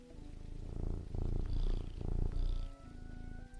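A cat purring in the video game Teddy's Haven, a close, low rhythmic rumble pulsing in slow waves of several breaths, alone over faint background game ambience.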